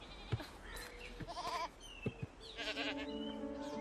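Sheep bleat several times in quick, wavering calls, close and fairly quiet, overlapping one another over low background noise.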